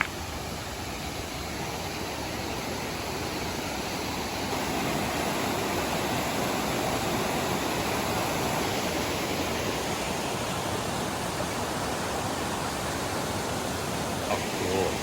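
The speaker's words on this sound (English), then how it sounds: "Listen to that river." A clean river in a Japanese mountain forest rushes beneath a bridge, making a steady, full, close hiss of flowing water that holds constant throughout and swells slightly partway through.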